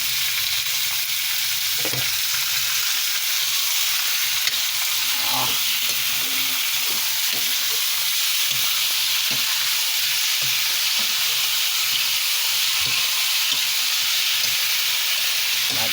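Chicken sizzles steadily in a pot of hot oil for a curry, with a continuous frying hiss and scattered stirring scrapes and clanks throughout.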